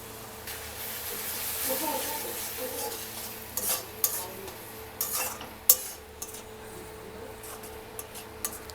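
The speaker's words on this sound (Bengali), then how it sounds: "তো এবার এটাকে দিয়ে দেব, দিয়ে একটু নেড়ে নেব।" Poppy seed and cashew paste being stirred in a pan, producing soft scraping and scattered clinks of a spoon against metal over a faint sizzle, with a few sharper knocks near the end.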